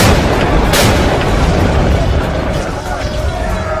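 Battle at a colonial fort rumbles with dense booming cannon and gunfire, a loud continuous roar of overlapping blasts, while a narrator speaks over it.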